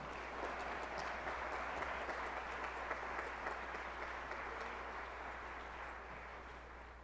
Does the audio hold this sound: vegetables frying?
no